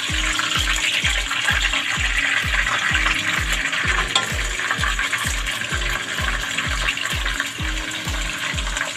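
Chicken pieces frying in hot oil for chicken binagoongan, a continuous loud sizzle close by, overlaid with regular thudding knocks, like a low mechanical beat underneath.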